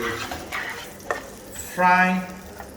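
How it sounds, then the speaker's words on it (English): Ikan bilis sizzles and crackles in hot oil as it is stir fried in a pan for sambal belacan, with soft scraping and a louder burst of frying near the end. "stir fry this"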